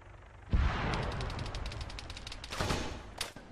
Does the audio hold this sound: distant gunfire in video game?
yes